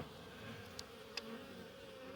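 Honey bees buzz in front of their hive, a steady faint drone of many wings with a couple of brief ticks passing close, and no voices.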